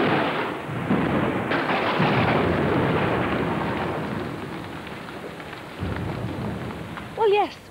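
Heavy rain pours steadily in the Welsh countryside near a broad mountain stream, a loud, dense hiss with a deeper rumble that fades partway through, then a brief warbling bird call rises at the end.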